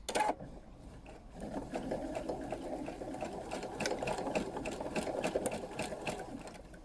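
A sewing machine runs in a steady, fast, even patter while doing free-motion embroidery to fill in a blackbird's beak on an appliqué piece, quiet and close.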